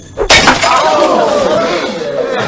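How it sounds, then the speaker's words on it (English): A glass soda bottle shattering after being struck by a flung yo-yo: a sharp, loud crash followed by a long ringing tinkle of glass fragments fading out, with a voice speaking over it. "Then he flings it and shatters a soda bottle."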